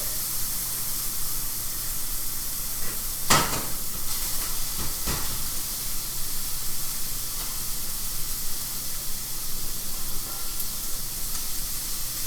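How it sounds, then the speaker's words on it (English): Onions and meat sizzle in a pan, a steady close hiss of frying with a couple of brief sharper crackles and no talking. "we're going to take the onions that we made and we're going to put it in the pan with the meat that we made"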